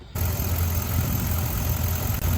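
A GMT800 truck engine idles in park, a steady, close, low rumble with an even mechanical hum throughout and no speech.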